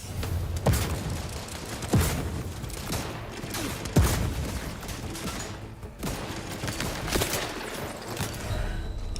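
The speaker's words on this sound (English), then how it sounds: "he just shotgunned me to the face" Gunfire in the video game The Outer Worlds 2, several heavy booming shots spaced roughly a second or two apart during a firefight, close and loud over a dense, rumbling game soundscape.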